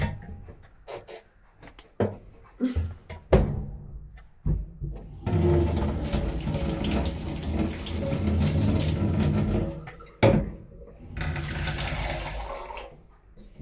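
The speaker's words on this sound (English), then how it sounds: "Now add 3/4 liter of water." Water pours steadily into a blender for several seconds, a loud rushing splash between clunks and handling knocks, with a shorter second pour near the end.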